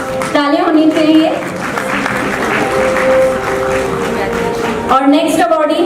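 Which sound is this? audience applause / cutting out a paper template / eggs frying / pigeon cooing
audience applause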